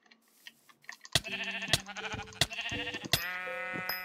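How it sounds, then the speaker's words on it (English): Sheep in the Minecraft video game bleat repeatedly in a quick run of sharp, nasal calls that start after a quiet opening and then overlap loudly with game clicks. "Need to get one more sheep"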